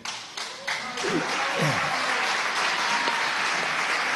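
An audience at a media forum breaks into applause, a few scattered claps that quickly build into sustained, loud clapping from a large crowd, steady to the end.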